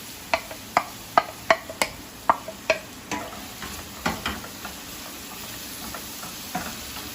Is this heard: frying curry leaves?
yes